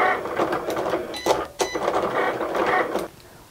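A Cricut Explore Air 2 cutting machine engraves metal with a busy mechanical whir and chatter of small repeated strokes and clicks, fairly close, stopping abruptly near the end.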